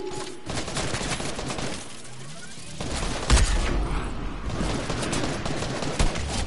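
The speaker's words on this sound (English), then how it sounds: "Someone's shooting right at me." Rapid bursts of gunfire from a Fortnite squads match, dense and sustained over several seconds with a few sharper louder shots standing out, close and continuous with no talk.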